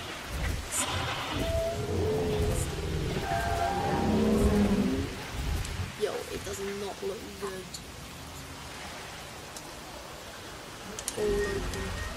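Steady rain and rumbling thunder fill a Jurassic World Evolution park, a continuous wash of noise running under someone talking for the whole stretch.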